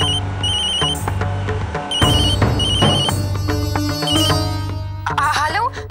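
An outgoing phone call rings repeatedly over a steady musical background in a domestic drama scene, with a loud tonal pattern throughout and a brief flourish near the end.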